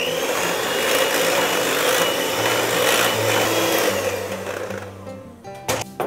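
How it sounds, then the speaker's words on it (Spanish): An electric mixer whips cold cream for a tres leches cake, a loud steady whirring drone with a grinding, buzzing edge that lasts several seconds before winding down into a few clattering knocks. "La vamos a batir un ratito, unos 2 minutos."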